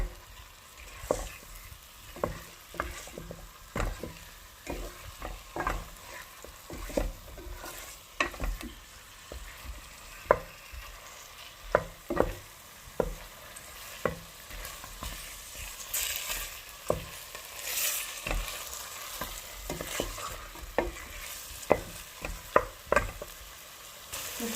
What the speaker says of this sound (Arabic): بالطبيعه نحرك المكونات الكل مع بعضها.